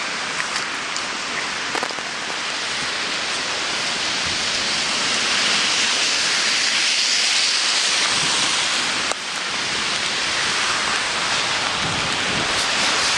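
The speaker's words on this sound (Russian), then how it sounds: "И дождь опять усиливается." Heavy rain pours down steadily on the streets of Anapa in a loud, dense broadband hiss that holds constant throughout, with no voices.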